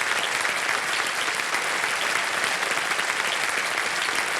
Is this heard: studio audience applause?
yes